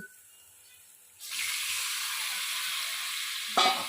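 Fish dropped into hot spiced masala in a pan for a Bengali fish curry set off a sudden loud sizzle that keeps hissing steadily, with a brief stir or clink near the end.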